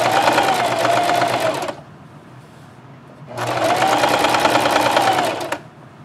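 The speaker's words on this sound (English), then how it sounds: "I'm just taking a little stitch" A sewing machine runs a close-to-the-edge stitch along the turned-under edge of a scrub cap, in two loud, steady whirring runs with a brief quiet gap between them.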